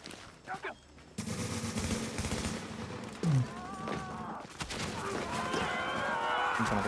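Gunfire in The Division video game: sustained, dense bursts of rapid shots with a near, loud firefight texture, over game effects and a talking voice.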